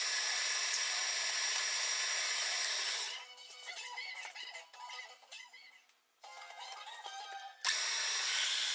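A power drill bores countersinks for bolt heads into a wooden workbench, with a steady loud whine at first, then broken, quieter bursts of cutting with a short pause before the drill runs hard again.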